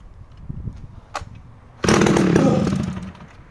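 A restored two-stroke chainsaw with a reed-valve intake and carburettor setup sputters with a few weak pops, then fires and runs loudly at close range, the engine note easing slightly after about a second.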